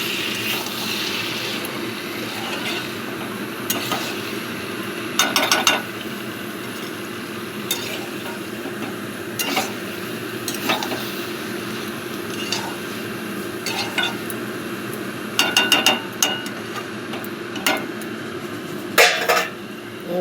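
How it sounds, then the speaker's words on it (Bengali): Cooked vegetables being stirred in a pot, with scattered clinks and scrapes of a spoon against metal over a steady low kitchen background, sharper bursts coming in brief clusters. "এই যে এবার নাড়িয়ে দেবো।"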